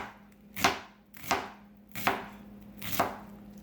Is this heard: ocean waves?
no